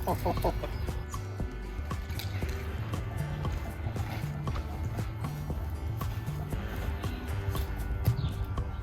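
Chickens on a small backyard homestead cluck softly nearby under a steady low background rumble, with scattered scratching and shuffling sounds throughout.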